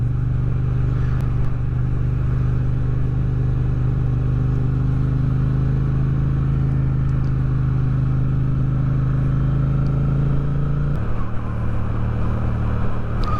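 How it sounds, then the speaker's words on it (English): A Yamaha MT07 motorcycle rounds a roundabout, its engine a loud, steady low drone mixed with wind rush that drops in tone near the end, with no speech. "I'm just going to go round a roundabout."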